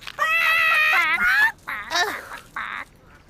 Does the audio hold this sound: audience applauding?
no